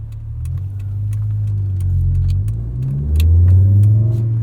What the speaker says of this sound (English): I just want to hear that 5-cylinder scream and not be miserable.